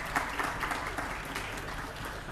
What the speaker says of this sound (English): I'd like to ask for a final round of applause for our speakers.